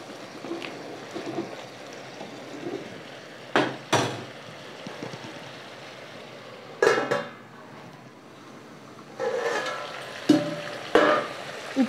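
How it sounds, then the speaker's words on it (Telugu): Ginger-garlic paste and other ingredients frying in a pan for a country chicken curry: a faint sizzle punctuated by a few sharp spatula clanks against the pan, near and sporadic. "ఇవన్నీ పచ్చిదాన్ని తీయ వరకు వేయించుకోవాలి."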